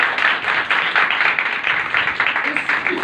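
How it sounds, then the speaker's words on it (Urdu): Loud applause from a church congregation: dense, uneven clapping that keeps going for about three seconds, with a voice speaking over part of it. "آئے زوردار تالیاں"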